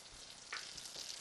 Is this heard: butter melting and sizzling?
yes